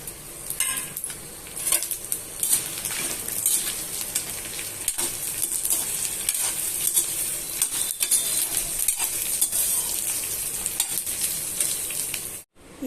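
Dried red chillies and cumin seeds sizzle steadily in hot oil while being stirred, with occasional light clinks of a utensil against the pan, loud and close throughout, then a brief cut at the end.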